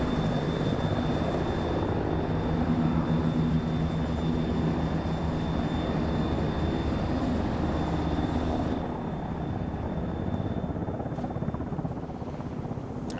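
Aircraft taking off in formation in a video game: a continuous loud engine drone with a steady hum, easing slightly in level partway through, no talking.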